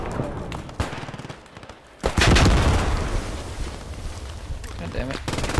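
A mortar firing in the World War II shooter Squad 44: a sharp heavy boom after a short lull, followed by a long rumbling tail, with scattered gunfire and a player's voice around it.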